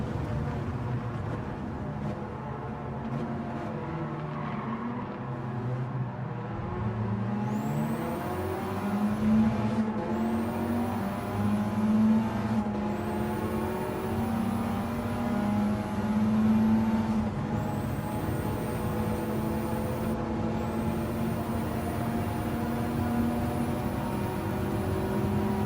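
Race car engine running at Monza in Gran Turismo 7, a steady droning hum with pitch rising through the gears and repeated upshifts marked by brief dips, holding at a constant moderate level.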